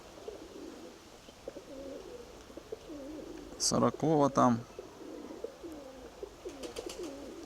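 Pigeons coo softly in the background in low, repeated rolling calls, while someone speaks briefly in the middle and faint clicks follow near the end.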